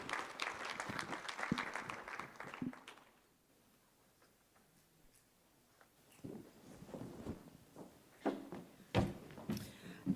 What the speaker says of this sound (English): Another round of applause for our panel as they leave the stage.